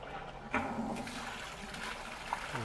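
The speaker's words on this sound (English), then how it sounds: "put our pump in the bucket, put the hose in the bucket, and let's turn it on" A Ryobi RY20UP02 18V telescoping pole pump draws water from a bucket, giving a quiet gurgling rush with a few splashes and clicks over about three seconds. No voices.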